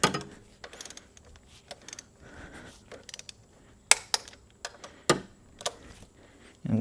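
A torque wrench tightens new bolts on a GM Ecotec 1.4L turbo drive belt tensioner, giving a series of sharp, close ratcheting clicks and metallic ticks spaced irregularly over quiet background.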